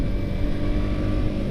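Yamaha R15 V3 motorcycle idling through a Ronin Hanzo NextGen aftermarket exhaust, a steady close and loud low rumble without revving, no voices.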